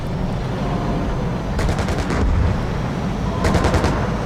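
Autocannon fire from a BMP-2 infantry fighting vehicle in the Gunner Heat PC tank game: two quick bursts of rapid cracking shots over a constant engine rumble, the second burst near the end.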